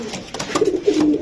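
A racing pigeon gives a short, close, soft throaty coo, a low rolling burble lasting about a second with nothing else around it.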